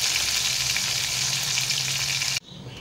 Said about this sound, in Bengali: আর কলমি শাক ভাজবো